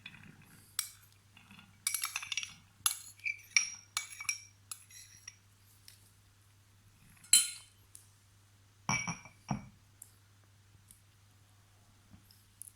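Diced cucumber pieces dropped into a bowl make a scatter of light clinks and taps, in bursts close by, with quiet gaps between them and no talking.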